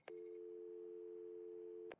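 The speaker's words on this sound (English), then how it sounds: "telephone, you were ringing" A telephone rings in Batman: Arkham City, one steady electronic ring lasting nearly two seconds with a sharp start and stop, loud and alone with no voices.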